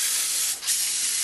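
An airbrush spray gun sprays basecoat paint onto a Howling Griffons miniature with the pressure set a little high, giving a steady close hiss that dips briefly midway before resuming.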